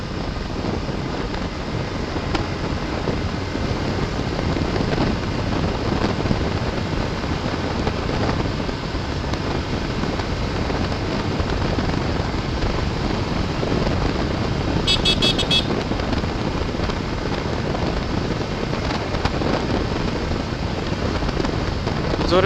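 A motorcycle cruises at speed on a road, heard as a constant roar of wind and engine rumble that stays loud and steady throughout, with a brief high beep partway through and no talking.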